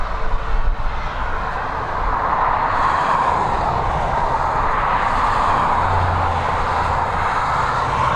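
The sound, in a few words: Qatar airliner taxiing at Dublin Airport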